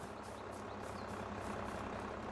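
A tractor in Farming Simulator 22, on the Alteiche (Westerwald) map, idles with a steady low rumble, loud and close, holding an even drone with no talk.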